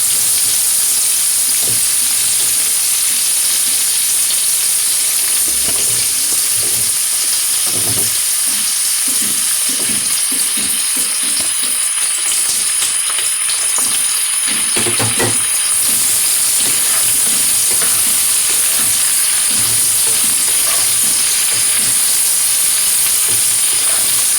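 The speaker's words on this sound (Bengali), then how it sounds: "পেঁয়াজগুলো হালকা ভাজা হয়েছে, এবার আমি দিয়ে দেবো ক্যাপসিকাম।" Diced capsicum frying with lightly fried onions, giving a loud steady sizzle and hiss close to the pan, broken by repeated scraping knocks of stirring and a constant high whine in the background, with no speech.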